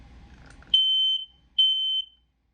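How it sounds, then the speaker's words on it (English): A household smoke detector being tested gives two loud, piercing electronic beeps, each lasting about half a second with a short gap between, then stops. Faint background rumble comes before the first beep. "Test your smoke detector."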